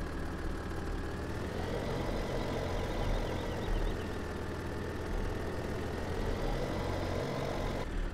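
A tractor engine idles steadily in Farming Simulator 17, a constant mid-pitched rumble with a faint knocking texture that runs unbroken and alone throughout.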